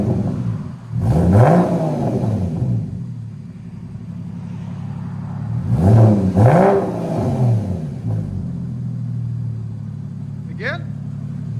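A 2015 Porsche Cayman with a 2.7L flat six and Vibrant bottle resonators revs twice, each rev rising sharply and falling back to a rumbling idle, heard close up with voices talking around it.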